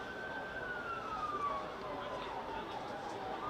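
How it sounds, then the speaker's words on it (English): Emergency vehicle sirens wail faintly in the distance across Chelmsford city centre, one long falling tone drifting under steady background noise. "A few sirens going off, I'm sure you can hear in the background over our commentary around the city centre of Chelmsford."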